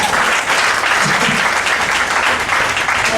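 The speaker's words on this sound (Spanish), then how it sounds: "Ahí era que tenían que aplaudir." A church congregation breaks into loud, sustained applause during a pastor's sermon, with dense clapping filling the hall and no speech over it.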